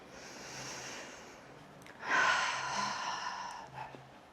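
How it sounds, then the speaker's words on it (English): Breath blown out through pursed lips during a wheelchair workout: a soft airy exhale, then a louder, longer breathy blow in the middle, near and fairly clear, with no talking. "Blowing air out through pursed lips if you need to catch your breath."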